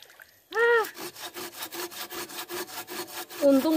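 Rhythmic rasping strokes of a blade shaving wood on a bonsai tree, roughly a dozen close, steady scrapes repeating about twice per second with no talking.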